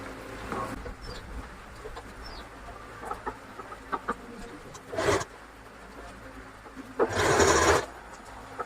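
A sewing machine runs in short bursts while topstitching piping along the edge of a blouse front, with two longer whirring runs standing out against quieter room sounds and distant chicken clucks.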